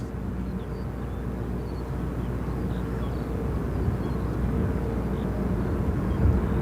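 An EasyJet airplane rumbles at London Gatwick Airport, a low, steady roar from some distance that grows gradually louder toward the end.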